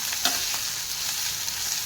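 Whole spices crackling in hot oil for a desi tempering of masoor dal, a steady, close frying sizzle with a few sharper pops, no voices.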